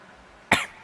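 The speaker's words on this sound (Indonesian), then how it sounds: "Batuk." A single sharp cough, close and fairly loud, breaks a quiet pause in an Indonesian religious lecture and fades quickly.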